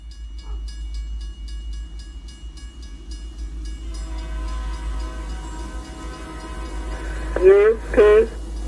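A northbound Union Pacific freight train arrives in Roberts, Idaho with a steady rail rumble and ringing crossing bells, then two loud, close horn blasts near the end.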